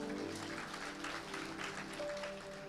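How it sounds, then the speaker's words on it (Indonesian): Church congregation clapping during a sermon, a faint, steady patter of applause with music tones and voices underneath. "Tepuk tangan buat Tuhan"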